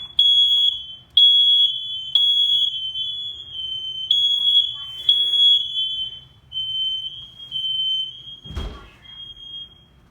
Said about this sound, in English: There is testing all the smoke alarms, CO alarm, and a gas combo unit in my parents' house.